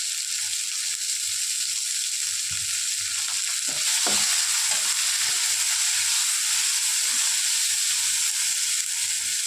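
Tomatoes with salt sautéing in a pan, a steady close sizzle and hiss with faint scraping stirs in the middle.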